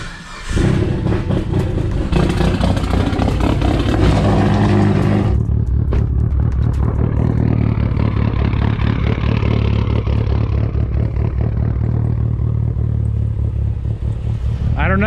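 A Mitsubishi Evo set up as a snow plow runs in deep snow, its engine a loud, continuous rumble that shifts partway through into a steadier, lower drone.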